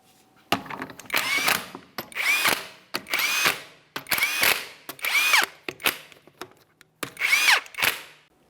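A power tool runs down 22mm lug nuts on a 2017-2024 GMC Acadia rear wheel in seven short, loud bursts separated by brief pauses, all close up.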